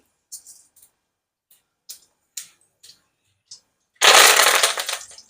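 Mustard, fenugreek and cumin seeds dropped into hot oil, giving sparse sharp crackles and pops at first, then a loud burst of dense sizzling spatter near the end.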